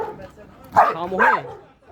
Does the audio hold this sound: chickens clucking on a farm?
no